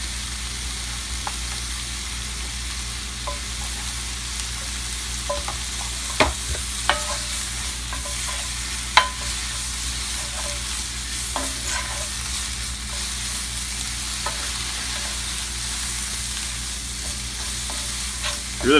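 Stinging nettles fry in butter with a steady hiss, stirred now and then with occasional clicks and scrapes of the utensil against the pan, close up and continuous.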